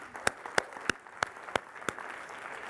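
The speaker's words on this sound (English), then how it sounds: "give them a round of applause" An audience at an executive lecture claps for a speaker, heard as a sparse, fairly quiet run of distinct claps at an even rhythm.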